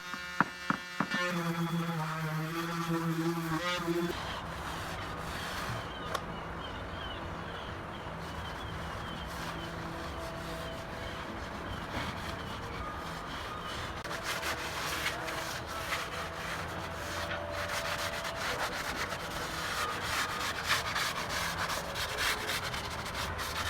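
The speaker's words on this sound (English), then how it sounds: "So here goes Nate sanding the siding with an electric sander." Continuous abrasive grinding of an electric sander working on old wooden cottage siding, steady and close, with a brief tonal hum at the start.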